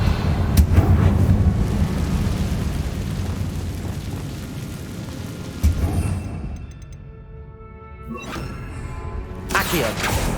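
A fiery spell explosion in the Hogwarts Legacy video game, a loud rumbling blast with heavy low thuds that swells early then fades into quieter game sounds before another burst.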